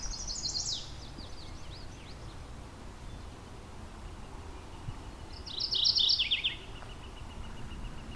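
Bird calls ring out from high in a treetop in Halton Forest, two short bursts of sharp descending chirps several seconds apart over a steady breezy background.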